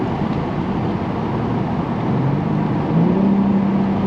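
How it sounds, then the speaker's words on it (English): A BMW G80 with a JB4 tune and aftermarket intakes drones steadily while accelerating, the engine note rising in pitch toward the end under heavy wind noise from a car interior. "See if we can get a little bit of intake sound."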